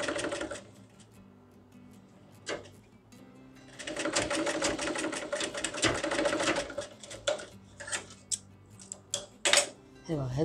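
A sewing machine stitches fabric for a baby's cap in rapid, buzzing bursts of needle clatter, starting and stopping at close range, with someone talking in the pauses.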